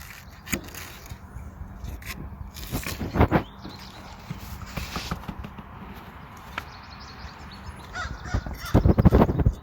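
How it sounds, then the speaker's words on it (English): Harsh crow or raven caws ring out several times in the distance over outdoor background noise in Maine, with scattered rustling and thumps nearby. "Do you hear the crows? Or the ravens?"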